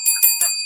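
A bell struck a few times in quick succession, bright ringing tones with sustained high partials, close and fairly loud with no talk.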